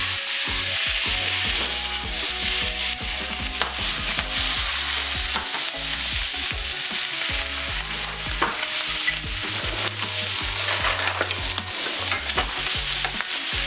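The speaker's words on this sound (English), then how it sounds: "So I'm gonna add the shrimp to the pot. You want to hear that little sizzle." Steady, loud sizzling of shrimp frying in a hot pot, a continuous crackling hiss with occasional stirring clatter, close up and without talk.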